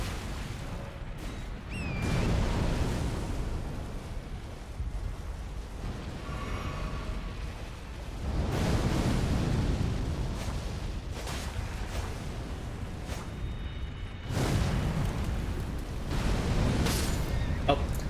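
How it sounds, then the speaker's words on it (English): Explosions in the video game Elden Ring, several broad, rumbling blasts that swell and linger, spaced a few seconds apart amid continuous game noise. "Oh, yet again I jumped into the explosion."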